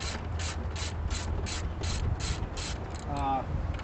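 Ratchet wrench clicking in a fast, even run of about nine strokes while loosening 13mm bolts inside a C4 car interior, close and clear, ending with a brief scrape.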